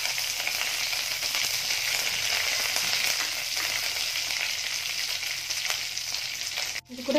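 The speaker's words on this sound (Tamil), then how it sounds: "கடுகு வெடிக்க ஆரம்பிக்கிறது" Mustard seeds splutter and crackle in hot oil while tempering for a Tamil mor kuzhambu: a dense, continuous close-up sizzle with no voices.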